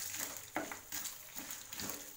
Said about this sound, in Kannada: ಉದ್ದಿನಬೇಳೆ ಮತ್ತು ಮೆಣಸಿನ್ಕಾಯಿನ ಹಾಕ್ತಿದ್ದೀನಿ ಇದನ್ನು ಲೋ ಫ್ಲೇಮಲ್ಲಿ ಇಟ್ಕೊಳ್ಳಿ